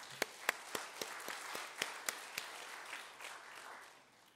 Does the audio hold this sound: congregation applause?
yes